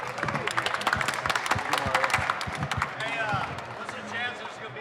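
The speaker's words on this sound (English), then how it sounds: "Everybody, give them a round of applause" Applause from an audience, a dense burst of clapping with a few loud individual claps and crowd noise, fading slightly toward the end while voices are heard.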